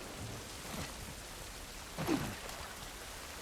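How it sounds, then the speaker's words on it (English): Steady rain falls in the video game The Last of Us Part 1 on PC, a continuous soft wash of drops with a slightly heavier gust near the middle and no talking. "This rain ain't gonna do us any good."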